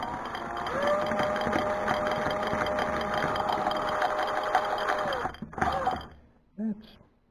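The crankshaft of a small homemade model engine spins with a steady, close mechanical whirring for about five seconds, then slows and stops, leaving faint handling clicks.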